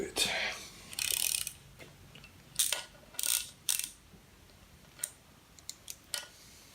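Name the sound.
10 mm ratchet undoing a motorcycle engine bolt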